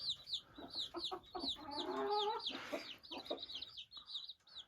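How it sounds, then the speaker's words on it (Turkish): Several laying hens cluck close by in quick, overlapping bursts, with a longer drawn-out squawk in the middle. "Bu yumurtlayan tavuk arkadaşlar."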